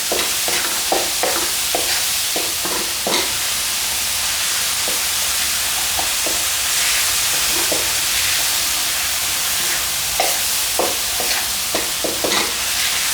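Salt and pepper chicken wings stir-fried with chili, garlic and sugar in a Cantonese-style pan, a loud continuous sizzle with rhythmic clinks and scrapes of a spatula tossing the wings, up close and without talk.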